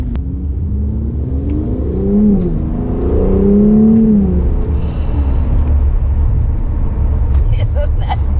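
A Mercedes-AMG C43 4Matic in Sport Plus mode accelerates hard, its engine note climbing through rising revs and then holding a loud, steady roar, heard from inside the cabin under a voice.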